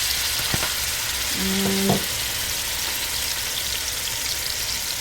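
Ground beef fries in a hot pan, making a constant, fairly loud sizzle that runs evenly throughout, with a brief clink and a short tonal beep near the start and a single spoken word.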